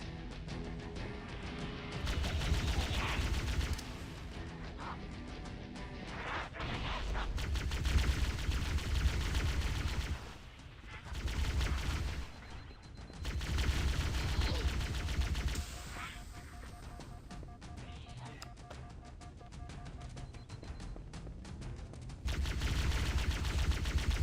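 Automatic rifle fire in Halo: Combat Evolved, bursts of gunfire coming in loud clusters with short quiet gaps between them, set against a continuous game soundscape.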